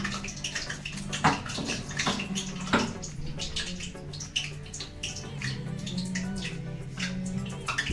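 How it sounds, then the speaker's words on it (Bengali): Chicken pieces fry in hot oil with a loud, continuous close-up sizzle full of sharp crackles and pops. "গরম তেলে চিকেন।"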